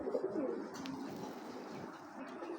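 A black racer pigeon coos in low, soft repeated calls, fairly close, over a steady faint background hum.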